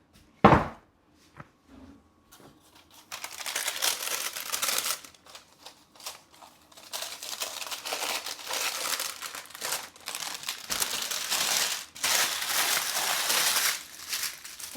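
Parchment paper crinkles and rustles as a freshly baked kefir sourdough-style loaf is handled, in close, intermittent bursts of crackling with short pauses between.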